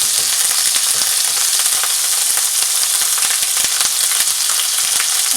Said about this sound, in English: Oh yeah, this thing splatters, you guys.